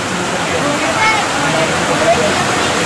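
Heavy rain pours steadily in Hyderabad, a dense continuous wash of splashing water with no breaks, loud and close throughout the short stretch.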